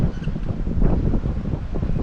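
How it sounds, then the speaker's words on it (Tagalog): Steady wind buffets the microphone with a low, rough rumble that continues throughout, with no voices. "mahangin no?"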